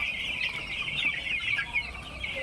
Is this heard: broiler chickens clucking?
yes